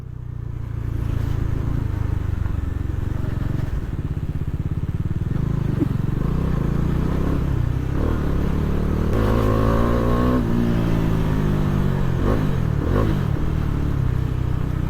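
KTM Duke motorcycle engines idle and rev steadily nearby near Tillari waterfalls, a continuous low rumble with a couple of rising throttle blips partway through.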